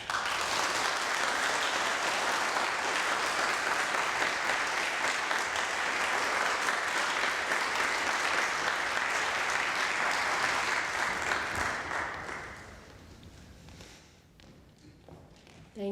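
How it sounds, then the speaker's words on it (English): Audience applause after a talk, a loud sustained wash of clapping that tapers off near the end into scattered claps and quiet room noise. "just love to give you another round of applause for sharing your story with us"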